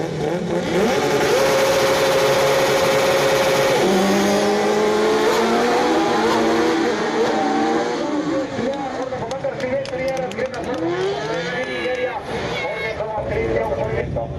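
Autocross race cars, one woman and three men driving, revving loudly at the start line at the 2023 Moravče event, engines whining and rising in pitch together while a commentator talks over them.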